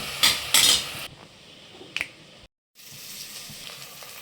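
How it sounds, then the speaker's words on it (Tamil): Onions sizzle in a hot pan, with bursts of crackling frying, a sharp utensil clink, a short gap, then gentle steady sizzling. "வெங்காயமும் அது கூட சேர்ந்து நல்லா வதங்கி வந்துடும்."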